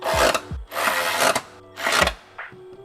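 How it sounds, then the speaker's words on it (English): Coilover suspension bolts on a Subaru BRZ being tightened with a power tool, three short bursts of whirring buzz separated by pauses, near and loud with no talk. "Now you can go ahead and tighten up these bolts."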